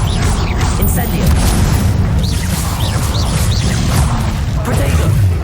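A fire spell cast in Hogwarts Legacy, a loud continuous roaring, crackling blast of flame with dense low rumble that fills the moment, with swooping magical chirps layered over it.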